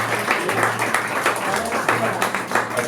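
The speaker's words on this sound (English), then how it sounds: "round of applause" Audience applause at an academic panel forms a steady, dense patter of many hands clapping, continuing evenly throughout with a faint hum underneath.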